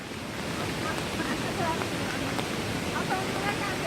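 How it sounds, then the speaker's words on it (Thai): Steady broadband rush of the Tad Yeuang waterfall near Ban Lak 40, Pakxong, Champasak, heard from a distance as continuous roaring water with wind, with faint voices at times. "มันจะเห็นน้ำตกอยู่หน้าตรง"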